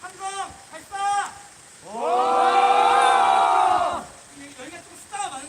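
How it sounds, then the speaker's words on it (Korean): A group of about nine people at a press conference on Labour Day for social service agents shout a loud, sustained collective battle cry lasting about two seconds, with short bursts of talk before and after. "그러면 우리 함성 외치고 마무리하도록 하겠습니다. 함성 발사!"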